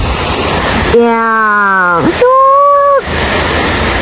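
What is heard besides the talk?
Katiki Waterfalls rushing water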